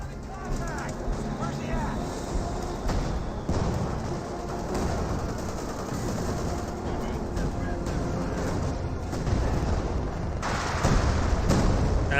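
Gunfire and explosions around a fighting position in a Company of Heroes 2 battle: dense, repeated shots and booming impacts over a constant roar, with a voice talking over the combat.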